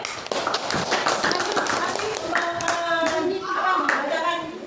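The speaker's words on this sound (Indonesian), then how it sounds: "tepuk tangan untuk kelompok ganjil" Students in a classroom clap for a group, with quick, uneven hand claps at close range mixed with voices and some rhythmic tapping.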